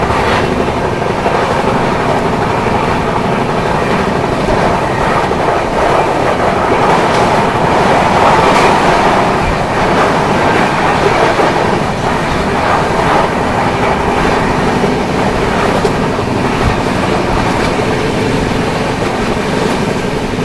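AC Duronto Express, the 12264 Nizamuddin–Pune train, running flat out at 130 km/h: a loud, steady rumble and roar from inside the coach, with wheel clatter over the rails continuing throughout.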